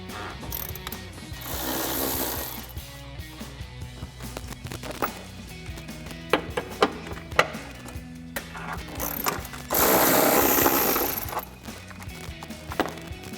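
A 12mm socket ratchet working loose the bottom bolts of a car's intake box during a K&N Series 77 cold air intake install, giving close, irregular mechanical clicks and rattles with a couple of louder whirring bursts.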